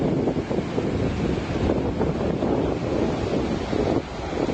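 Ocean waves and wind at a clifftop in Uluwatu, Bali, a dense, steady rumble of surf mixed with gusty wind buffeting the microphone, no voices present.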